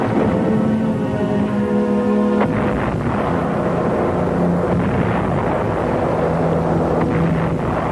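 Mortar rounds strike an ammunition dump on Angaur in wartime, giving a dense, continuous roar of explosions and rumbling blasts with no break in loudness.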